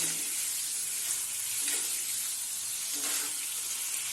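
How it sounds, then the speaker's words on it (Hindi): Paneer pieces sizzle steadily in a hot pan for a restaurant-style paneer butter masala, a continuous close hiss that swells briefly a couple of times as the pieces are stirred, with no talking. "इसको हल्का सा हम पकाएंगे ताकि पनीर का जो मॉइस्चर है वो निकल जाए"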